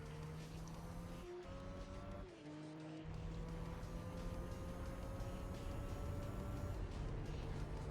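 A pace car circling the track in Gran Turismo 4 gives a steady, loud engine drone with slowly rising and shifting pitch, plus brief tire squeal, with no voices.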